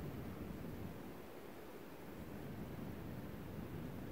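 River rapids rushing in the dark near a backcountry campsite in Big South Fork, Tennessee: a quiet, continuous low roar of water, far off and constant, with no voices or other sounds.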